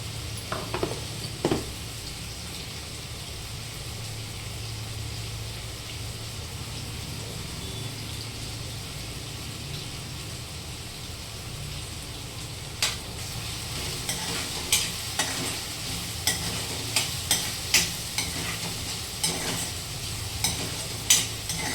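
Tomatoes for a bean curry soften in a hot pan, a continuous sizzle and fry throughout, joined in the second half by a run of light scraping stirs from a spoon against the pan.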